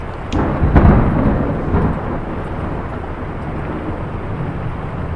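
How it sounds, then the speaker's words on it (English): Thunderstorm in The Lion's Song video game: a deep rolling thunder rumble swells early and fades into a steady hiss of heavy rain that continues alone. "What about that storm? Still here too?"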